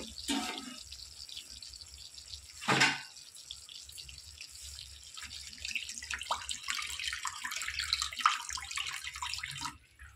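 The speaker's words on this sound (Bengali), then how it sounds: "তো আমার অল্প পরিমাণে আমি এখানে জলটা দিয়ে দেবো।" Water pours in a thin, splashing stream into a pan of red-fried potatoes for a vegetarian curry, a bright clatter partway through, the trickle running steadily and fairly quietly close by.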